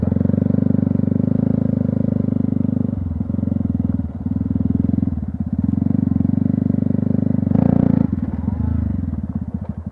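A Yamaha YZF 125 R sport motorcycle ridden on a motocross track, its engine droning loud and continuous with brief throttle dips and a surge near the end, heard from on the bike.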